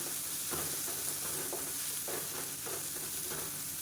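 Green chilies, black pepper and cumin sizzle quietly in a pan while a spoon stirs them in soft, repeated scraping strokes, with a steady low frying hiss underneath.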